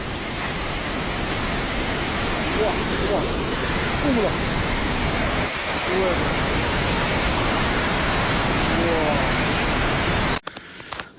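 Loud, steady roar of the flooding Lehende river in Rasuwa, Nepal, fills the whole stretch without a break, then cuts off abruptly near the end.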